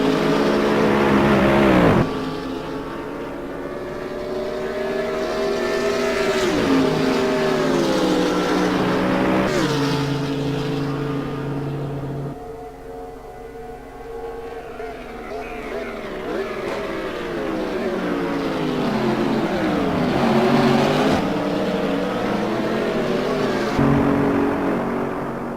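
Race car engines at Monza in the simGT racing game, a Mercedes-Benz among them, howling through rising and falling gear changes with repeated upshifts, braking drops and hard acceleration, loud and close throughout.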